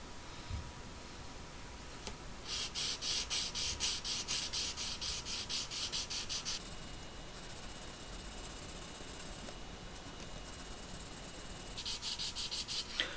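An emery board rubs back and forth over the metal frets of a Wilkinson T-style guitar neck, producing bursts of close, rhythmic high rasping separated by quieter pauses.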